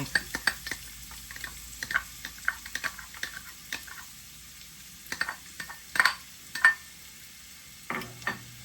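Onion and garlic sauté in a pan for a Filipino creamy soup, with a soft background sizzle broken by scattered clicks and scrapes of stirring against the pan.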